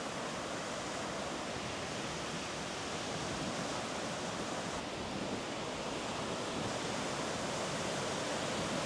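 Water waves wash in a continuous broadband roar, steady and moderately loud throughout with no speech.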